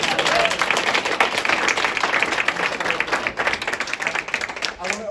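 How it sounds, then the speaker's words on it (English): Audience at a food justice panel event gives a round of applause, dense clapping from a crowd heard close and fairly loud throughout, with some voices mixed in. "Make it a round of applause for our panel."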